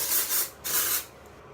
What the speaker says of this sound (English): If I'm in a hurry, I'll use this just for a real quick spray.